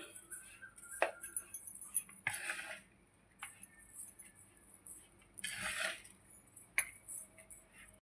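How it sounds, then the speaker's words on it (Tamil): Sugar and grated coconut being mixed into wheat rava puttu, heard as faint, sparse clinks and scraping of a spoon against a vessel with short rustling bursts, quiet and close in a still room. "சர்க்கரை தேங்காய் துருவலையும் சேர்த்து நல்லா மிக்ஸ் பண்ணிடுவேன்"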